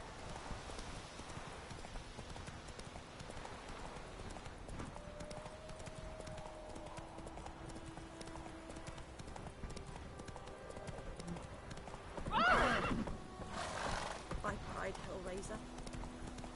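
Roach, a horse in The Witcher 3, clip-clops steadily along a road, hooves tapping in even rhythm, with a sharp neigh bursting out near the end; someone talks over the hoofbeats throughout.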